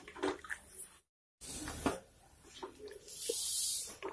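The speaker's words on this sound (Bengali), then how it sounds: "এখন আমি এর মধ্যে জল দিয়ে দেব।" Water is poured into a pan of cauliflower fish curry, giving short splashing and trickling bursts broken by a brief silence, then a steadier pour near the end, close and fairly quiet.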